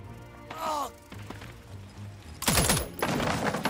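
Gunfire in the tactical game Jagged Alliance 3, with a short loud burst followed by a louder crashing volley near the end, interspersed with quiet game sounds and a brief voice.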